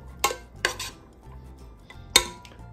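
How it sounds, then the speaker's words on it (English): A spoon stirs butter melting in a pan, giving three sharp metallic clanks against the pan with quiet scraping between them. "give that a stir, just start melting it"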